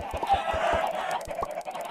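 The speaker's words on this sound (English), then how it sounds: "Let's throw some eggs at chickens." Chickens in the Minecraft video game cluck in a quick series of short, clipped calls, several in a row at a steady pace, fairly clear with no talking over them.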